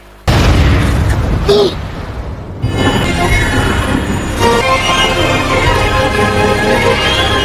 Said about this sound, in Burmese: အဲ့နေရာကြီးတစ်ခုလုံးကတော့လုံးဝပေါက်ကွဲပျက်စီးသွားပါတယ်